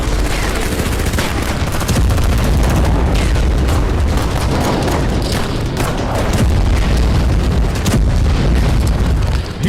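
Heavy bombardment in Gaza in news report footage: repeated loud booming explosions and rumbling blasts, dense and continuous with irregular sharp impacts.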